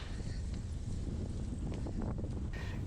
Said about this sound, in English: It may be cold and windy